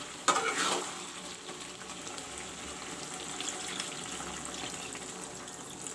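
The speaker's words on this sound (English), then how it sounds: "Now I will add some water." A splash of water poured into a hot pan of chicken curry with peas, onion and tomatoes, followed by steady sizzling and bubbling that continues quietly without speech.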